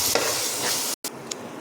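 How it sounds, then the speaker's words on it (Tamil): Onion and tomato paste sautéing and being stirred in a pan for Tamil fish curry, a loud steady sizzle with scraping stirs, briefly cut by a short silence near the middle. "இப்போ நல்லா வதக்கி விட்டுடலாம்."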